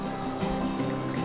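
Water squeezed by hand out of fresh Bombay duck fish, a soft wet dribbling and squishing that runs steadily and close for about a second, with no talk.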